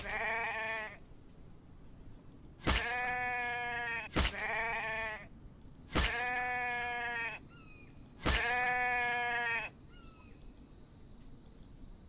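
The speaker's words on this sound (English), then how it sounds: "Yep, there it is. It's a sheep." Sheep bleating in the video game Infected, four or five loud, drawn-out bleats spaced a couple of seconds apart, each clear and close with quiet gaps between.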